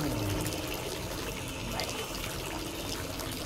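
Water flows and splashes steadily in the video game Layers of Fear 2, a constant close rushing and trickling wash with no voices over it.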